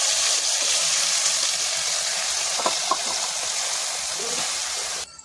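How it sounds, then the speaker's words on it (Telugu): Tomato pieces dropped into hot oil for a Brahmin-style tomato pickle give a steady, close, even hiss and sizzle, with a few small pops near the middle before the sound cuts off sharply at the end. "నూనె కొంచెం వేడి అయిన తర్వాత మనం వేసుకోవాలి టమాటా ముక్కలు"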